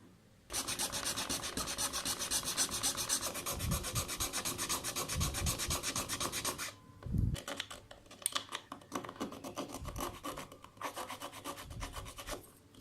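A tool grinds a hole in a plastic action camera casing, a steady close rasping buzz for about six seconds, then shorter intermittent grinding bursts with brief pauses.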